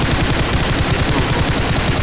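Rapid automatic gunfire spraying in a shooter video game, a dense, loud burst of closely spaced shots running continuously through the whole moment.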